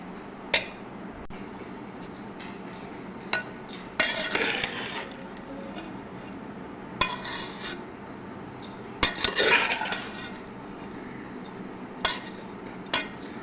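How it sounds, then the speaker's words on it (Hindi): A spoon scrapes and clinks against a metal pot while sugar is mixed through sweet zarda rice, with irregular scraping strokes and sharper knocks spread across a quiet background. "चीनी डालने के बाद हम इसे खूब अच्छी तरह मिक्स करेंगे कि चीनी सारे में मिक्स हो जाए"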